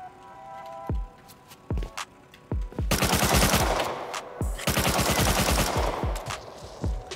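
Video-game gunfire blasting into a high external stone wall: a few single loud shots spaced apart, then two long bursts of rapid automatic fire with crackling impacts, close and loud.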